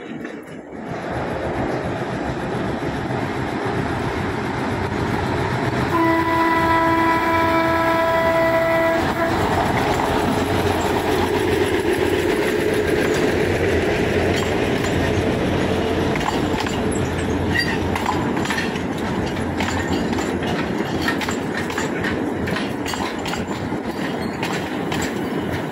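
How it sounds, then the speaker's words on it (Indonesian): A sugarcane rail lorry train rumbles past steadily at night on a curving track, with a horn blast near the start and rattling, clattering wheels on the rails continuing throughout, fairly close. "kereta lori melewati jalur yang berbelok ini teman-teman ya"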